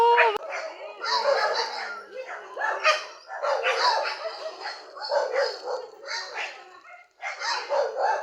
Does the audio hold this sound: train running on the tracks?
no